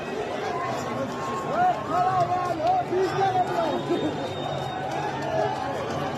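Crowd in Abdanan, Iran, cheering at police, a dense outdoor mass of voices with rising shouts and whoops swelling in the middle, steady and fairly close.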